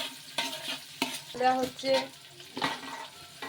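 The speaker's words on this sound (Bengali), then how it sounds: "এই ঘি দিয়ে দিয়েছি, গরম মশলা দিয়ে দিলাম" Garam masala spices frying in hot ghee while being stirred, giving a close sizzle with scraping strokes and a few tonal clinks. A voice says a brief word partway through.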